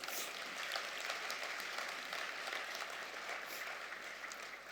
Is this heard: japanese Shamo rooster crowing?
no